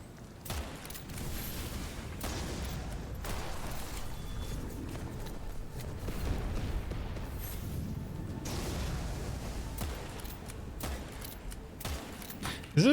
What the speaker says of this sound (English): How long is this dude gonna shoot for?